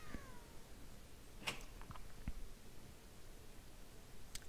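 A cat meows in a German point-and-click adventure game, Secret Files Tunguska, in a single short call near the middle, fairly faint over a quiet background with a few soft rustles.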